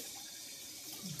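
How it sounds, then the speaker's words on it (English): Cold water runs steadily from a bathroom tap into a sink, a continuous close hiss of flowing and splashing water. "Cold water on the face, folks."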